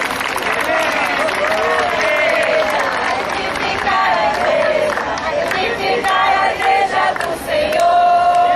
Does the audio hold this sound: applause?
yes